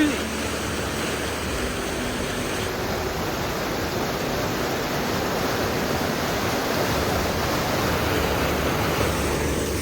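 Monsoon water rushes and roars continuously near Thoseghar in Satara, a loud, steady wash of white noise that fills the whole stretch without a break.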